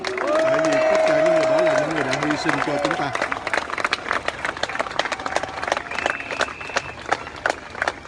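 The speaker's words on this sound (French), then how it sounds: "Soutenez-les, soutenons-les, applaudissons-les." Crowd at an anti-vaccine-mandate protest in Paris clapping, with a sustained horn or siren tone at the start, then scattered outdoor applause and voices continuing at moderate level.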